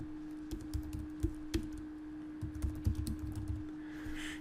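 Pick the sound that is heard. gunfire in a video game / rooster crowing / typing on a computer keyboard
typing on a computer keyboard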